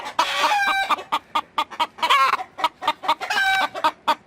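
A hen that has just laid an egg clucks loudly and repeatedly in quick bursts, with a few drawn-out, rising cackles mixed in, close by and without any talking.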